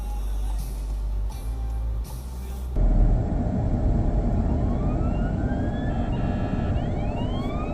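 A fire truck's wailing siren rises and sweeps repeatedly over loud, steady rumbling traffic noise, close by, with no talking.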